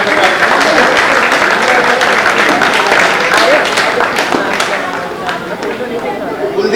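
Loud, dense audience applause at a club gathering honoring guests, mixed with crowd chatter and babble, staying steady before easing slightly toward the end.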